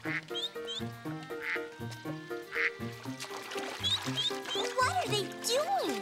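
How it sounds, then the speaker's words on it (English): Cartoon ducks in a children's animated episode quack in quick, repeated bursts over bright background music, with a voice and narration talking along. "Ducks! It looks like they're having a family picnic, too."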